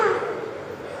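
A voice imitates a crow's caw as a short performance at a school class assembly, one brief, loud, nasal call up close that tails off within a second.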